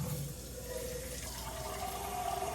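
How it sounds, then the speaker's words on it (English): Water pours into a pot of oxtail stew in a home kitchen, a continuous low gurgling fill with a faint rising pitch as the level climbs, close by and without talk. "I'm going to add a little water because you want it to be enough"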